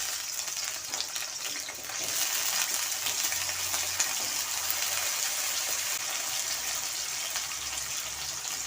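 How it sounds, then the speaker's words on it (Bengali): Potatoes fry in hot oil in a wok, giving a steady, dense sizzle with crackling that holds close and even the whole way through, with faint stirring beneath and no voices. "প্রথমে আমি পরিমাণ মতো তেল দিয়ে দেব, দিয়ে আলু ভেজে নেব।"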